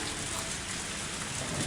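Steady heavy rain downpour in the Higurashi When They Cry game scene near a swamp, a dense even hiss holding continuously at moderate level with no breaks or other sounds.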